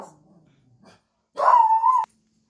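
A pet dog indoors gives one loud, sustained bark lasting about a second, close by and cut off sharply, preceded by a faint murmur of human voice.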